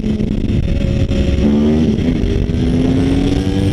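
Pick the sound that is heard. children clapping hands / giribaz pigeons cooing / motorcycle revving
motorcycle revving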